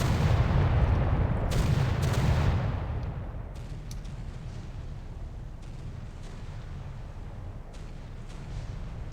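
Five-inch naval guns fire salvos in the Victory at Sea Pacific game, Iwo Jima campaign: a loud, booming burst of overlapping shots for about two seconds, then a lower rumbling tail with scattered distant cracks.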